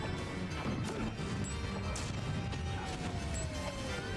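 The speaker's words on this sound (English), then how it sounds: "these grenades just exploding everywhere" Snake's grenades in Super Smash Bros burst one after another during a tournament match, a dense run of crashing impacts over a loud, steady game din.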